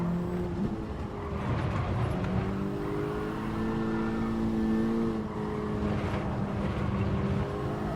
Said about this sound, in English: And we just balance the car on third gear with a bit of brake.